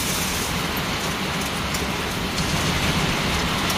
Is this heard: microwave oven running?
no